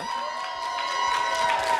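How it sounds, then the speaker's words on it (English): Audience at a hair and make-up competition final with an ancient Egyptian theme cheers and applauds loudly and steadily, with whoops and shouts rising over sustained clapping. "Can we give them a round of applause?"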